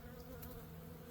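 Honeybees buzzing atop an open backyard hive during inspection, a faint steady drone close by with no talk.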